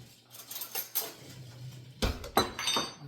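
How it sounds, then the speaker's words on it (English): A bowl and spoon being fetched in a home kitchen, giving a few light clinks and knocks of dishes and cutlery spaced over a few seconds, with a sharper clatter near the end. "I'm going to get me a bowl and a spoon."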